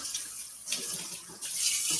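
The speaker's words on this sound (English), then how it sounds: "So I'm going to rinse off my gloves just to be sure I don't have any" Gloved hands are rinsed under a running tap at a sink, a steady close rush of water shifting in tone as the hands move through the stream, with no talk.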